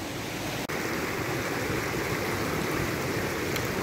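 A waterfall in the Savoie mountains gives a loud, steady broadband roar of rushing water, with one brief dropout near the start.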